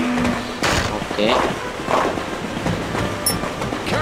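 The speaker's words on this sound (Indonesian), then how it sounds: "Oh, kita bergelantungan di dalam ini ya. Di dalam apa sih namanya, kereta." A train carriage rolls along in the Toy Story 3 PS2 game, a continuous rumbling ride with clattering knocks and occasional bangs, while a player talks throughout.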